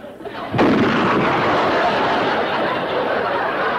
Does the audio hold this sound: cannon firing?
yes